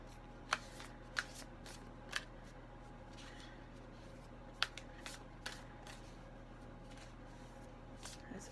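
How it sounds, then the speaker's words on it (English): Oracle cards shuffled by hand close up, a handful of sharp papery snaps and riffles spaced irregularly over a quiet background, with no voices. "As always, I'm shuffling on camera, so you see me doing it"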